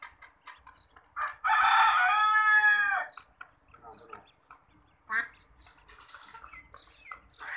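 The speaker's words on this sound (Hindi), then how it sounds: "ये मुर्गे भी आए अंदर।" Rooster crowing rings out loud and close for about two seconds amid scattered clucks and quacks from chickens and ducks around a village yard, with voices talking between the calls.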